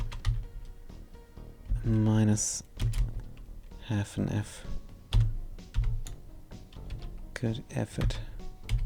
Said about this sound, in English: I could copy paste, but I'm typing this now.